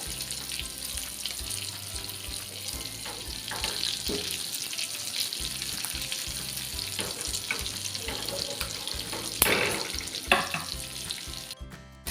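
Dhavne fish fry in oil on a flat tawa, making a continuous soft sizzle with faint stirring and scraping, and a sharper crackle near the end. No one speaks.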